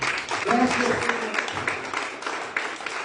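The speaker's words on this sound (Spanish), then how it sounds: "Denle un aplauso a Cristo esta noche." Church congregation applause during an evening Wednesday service, a moderate wash of clapping from the room with voices and worship sounds mixed in.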